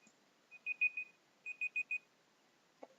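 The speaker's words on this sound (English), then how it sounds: "that was my timer." A kitchen-style timer alarm beeps in two quick bursts of four short electronic tones, moderately loud against a quiet room, followed by a faint click.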